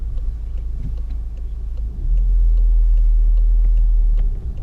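A car drives downhill while the driver brakes, heard from inside the cabin as a steady low road and engine rumble that swells louder for a couple of seconds midway, then eases back.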